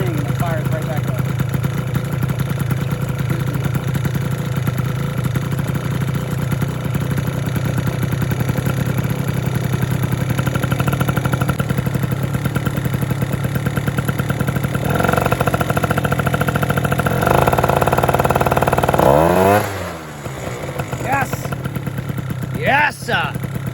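A Vento Triton R4 two-stroke engine idles loudly and steadily from close by after a restart, with a brief revving rise near the end as someone talks over it.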